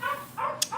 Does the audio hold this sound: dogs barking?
yes